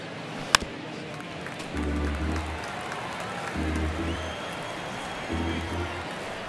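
Stadium crowd in MLB The Show 23 during a tense ninth inning, swelling in three broad waves of applause and cheering over a steady ambient murmur, with one sharp crack just before the first surge.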